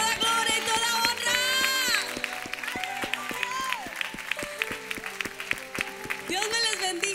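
Church congregation applauding in thanks during a Spanish-language worship service: sustained crowd clapping and cheering throughout, with a preacher's voice and some shouting heard over it.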